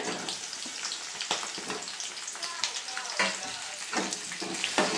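Onion and tomato frying in oil for tomato chutney, a steady close sizzle and crackle with scattered scraping and stirring knocks, a voice faintly underneath.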